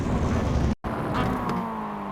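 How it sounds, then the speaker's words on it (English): A Mazda MX5 in the iRacing sim downshifts with a throttle blip, the engine droning steadily, cutting out for an instant, then revving back up, close and continuous without talk. "Shift down into first gear and I'm blipping on both downshifts just to make sure that I keep the car under my full"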